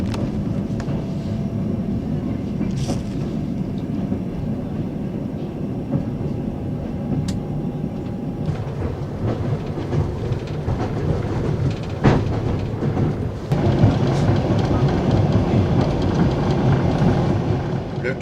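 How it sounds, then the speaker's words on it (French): A passenger train hauled by an electric locomotive heading east gives a steady loud rumble of rolling wheels with clattering rail joints and occasional sharp knocks, heard from inside the carriage and growing louder toward the end. "Nous avons maintenant une locomotive électrique et filons droit vers l'est."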